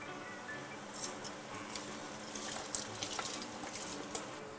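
Water pours steadily into rice in a cooking pot for a Burmese home-cooked dish, a soft continuous trickle and splash close by with no talking.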